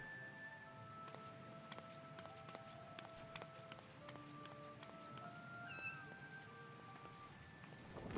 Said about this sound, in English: Ah, the cats.